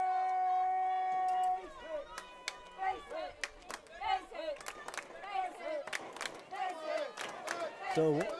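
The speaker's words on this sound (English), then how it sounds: "Great crowd here, giving him a big round of applause." A crowd at a high school baseball playoff game claps and cheers loudly and steadily, with a voice talking over the noise.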